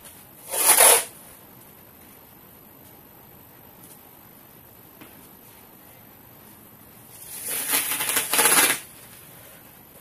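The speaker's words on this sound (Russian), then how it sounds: "И сейчас этим малярным скотчем мы просто прикрепим," Masking tape torn and pressed onto a table while pinning knit fabric for sewing trousers, heard as two short crackly rips, one near the start and a longer one near the end, with quiet room tone between.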